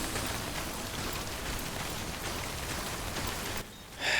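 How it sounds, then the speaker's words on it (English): Steady rain in the video game Death Stranding, a dense continuous hiss that holds evenly and then briefly drops away near the end. "I'm running in the rain."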